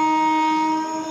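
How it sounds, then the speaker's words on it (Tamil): A train at Kallayi railway station at night sounds a loud, close horn, one sustained steady blast that fades slightly at the end of a very short moment. "ட்ரெயின் வருது, ட்ரெயின் வருது, ட்ரெயின் வருது. ரொம்ப ஸ்லோவாக தான் போக வருது"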